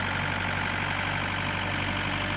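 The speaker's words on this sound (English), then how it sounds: "now Chris is just going to drive the tractor back." A farm tractor's engine runs steadily with a low, continuous drone and a dense rumble, loud and close throughout, with no voices.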